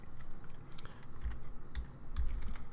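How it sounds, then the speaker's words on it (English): Typing on a computer keyboard, a run of light, quick key clicks with a few deeper thumps, steady and close with no talk. "Begin typing"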